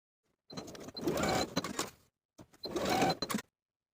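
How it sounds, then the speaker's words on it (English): A sewing machine stitches the side seams of beginner barrel-leg pants with a 3/8 inch seam allowance, running in two close, steady bursts separated by a short pause. "Sew the side edges with a 3/8 inch seam allowance."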